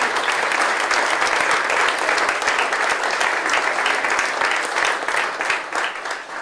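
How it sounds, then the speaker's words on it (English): A large audience at an LSU College of Engineering event applauds the donors who funded the Patrick F. Taylor Hall renovation, dense steady clapping sustained throughout and tapering slightly at the end. "Let's give all these donors a great round of applause"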